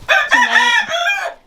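A backyard rooster crows loudly and close by, one drawn-out call that rises and then trails off, with no other sounds around it.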